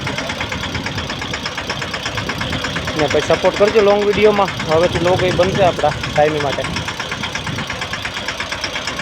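Yuvraj tractor engine running during field sowing, a mid-pitched idling chug with knocking vibration that swells briefly midway, heard under someone talking.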